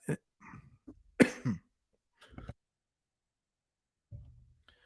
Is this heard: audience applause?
no